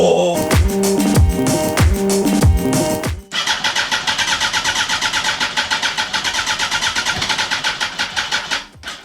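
A wrecked Yamaha R1 motorcycle with a broken engine is cranked, first with a few labored, uneven turns, then a long, rapid, steady starter whir that cuts off without the engine catching.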